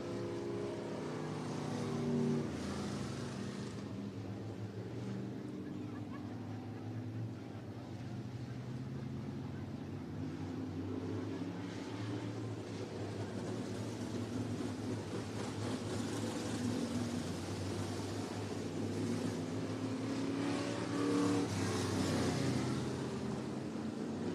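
Dirt oval race cars in an IMCA Sport Mod heat race at Cottage Grove Speedway, Oregon, droning continuously as a pack, with engine roar rising and falling over steady wind noise.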